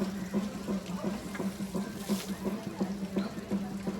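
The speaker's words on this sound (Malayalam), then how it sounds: "ആന വെള്ളം കോരി ദേഹത്തൊഴിക്കുന്നു, മസ്തകത്തിലൊഴിക്കുന്നു" An elephant bathing at a festival ground, scooping water with its trunk and pouring it over its body, heard as faint, rhythmic splashes and trickles repeating about every third of a second over soft background noise.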